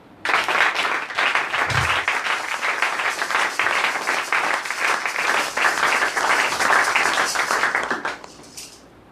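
A church congregation applauding during a deliverance service, a loud, sustained burst of many hands clapping together that rises quickly, holds for several seconds, then fades out.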